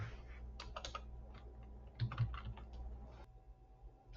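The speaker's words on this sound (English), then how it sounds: "All right, and just type." Light typing on a computer keyboard while working in the Canva design tool: a scattered series of soft, close key clicks in small clusters over a quiet room background, with no talking.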